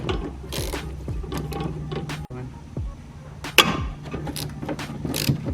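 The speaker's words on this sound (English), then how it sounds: "those you need a long extension and a ratchet to get those out" A hand ratchet with a long extension and 12mm deep socket loosening nuts on a Nissan G37 rear shock mount, quick irregular clicking strokes with metallic ticks and clunks, close up and fairly quiet.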